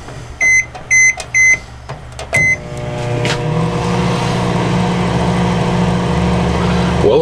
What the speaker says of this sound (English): So it looks like this microwave's running.